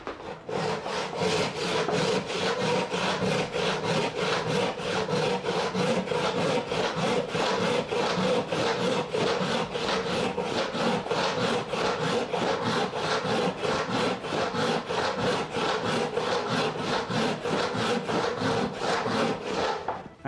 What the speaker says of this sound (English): using the electric jigsaw was quite horrible. It wasn't that fast